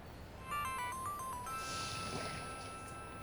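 Phone ringing with a short electronic melodic ringtone, a quick run of bright beeping notes, then a sustained tone, fairly soft against a quiet room with no speech.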